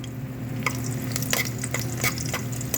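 Garlic stir-fried in a pan for a home-cooked vegetable dish, a loud continuous sizzle broken by repeated scraping spatula strokes against the pan.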